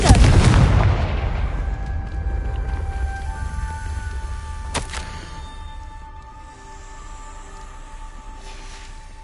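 A Confringo spell explosion in Hogwarts Legacy strikes with a loud, close boom and then decays into a long, low rumbling tail, with a second sharp crack partway through and faint tonal ringing as it fades.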